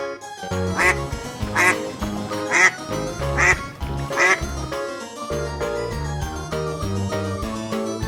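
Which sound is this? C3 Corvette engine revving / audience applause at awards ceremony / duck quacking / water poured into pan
duck quacking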